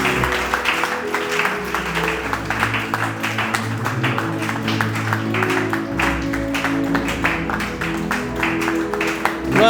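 Dense, steady applause and cheering from a large audience at a church worship gathering, continuous and loud throughout, with music and voices mixed in underneath.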